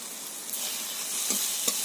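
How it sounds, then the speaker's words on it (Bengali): Steady, close sizzling of ginger paste frying with garlic and onion in a hot pan, with brief scraping stir sounds near the end. "আদা দিয়ে আবারও ভালো করে কষিয়ে নিতে হবে"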